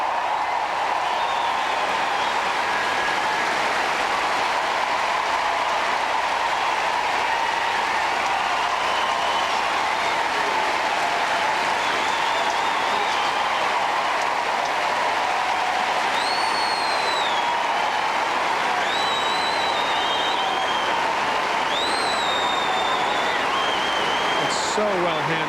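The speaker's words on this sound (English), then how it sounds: "It's a standing ovation." A Wimbledon 2003 crowd gives a standing ovation after Agassi's four-set win over El Aynaoui, a steady wash of sustained applause and clapping lasting throughout, with faint commentary beneath.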